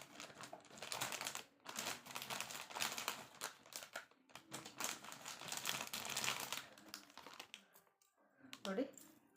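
Plastic packaging from an online shopping parcel holding a necklace being unwrapped up close, with bursts of crinkling and rustling broken by short pauses, while a voice talks over it.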